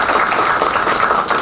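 Audience applause for a panel guest at a live political party forum on digitalization: a dense, even wash of many hands clapping, loud and close, for the full short stretch, with no voice above it.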